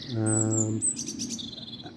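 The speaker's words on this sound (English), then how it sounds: "listening to this bird song that I've got all around me" Outdoor birdsong: one bird gives a loud, buzzy, sustained call close by, followed by quicker, thinner chirps and whistles from birds around, with no talking.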